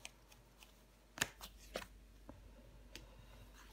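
A tarot card is slid down over the star card on a table, giving soft papery taps and one brief louder flick amid faint, scattered card handling.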